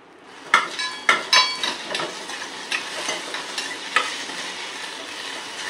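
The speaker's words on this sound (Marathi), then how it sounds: "साबुदाणे मात्र याच पद्धतीने तुपामध्ये परतवून घ्या" Sago pearls roasting in hot ghee over low heat, stirred with a utensil, giving a soft continuous sizzle broken by several sharp metallic scrapes and clinks against the pan, close and with no talking.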